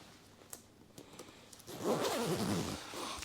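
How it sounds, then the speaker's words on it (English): A side zipper on Sitka hunting clothing is zipped in one quick, close rasping pull after a few faint rustles. "Oh, I actually forgot that it's got the side zip."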